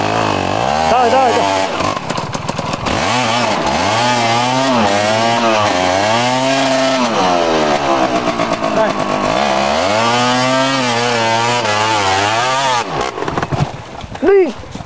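A motorcycle engine revs loudly and close by on a dirt trail, its pitch rising and falling in repeated swells over a long stretch. Someone talks briefly underneath the engine.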